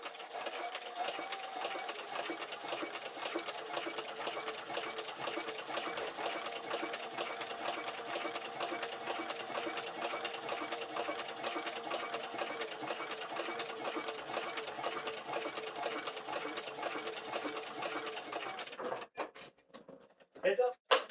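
Sewing machine stitching a leather gun belt rig, a fast steady mechanical chatter running without a break for most of the stretch before stopping, followed by a few brief knocks near the end.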